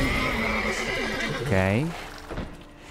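A single horse gives a short, loud whinny in The Witcher 3, rising then trailing off, set against a busy game background and brief spoken words.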